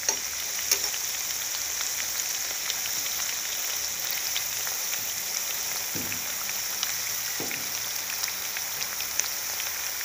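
Wheat flour and jaggery tikkis fry in a pan with a constant bright sizzle of hot oil, close by, and a few soft knocks as they are turned.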